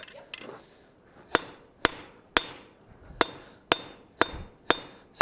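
A hammer strikes hot steel on an anvil while forging a colonial-style trivet, giving about nine crisp, ringing blows at a steady pace of roughly two per second, close and clear, with no talking.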